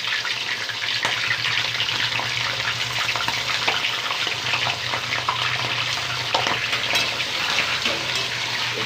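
Chicken frying in oil with bay leaf for a chicken curry, a loud continuous crackling sizzle with scattered pops and ladle scrapes, close up and with no voices.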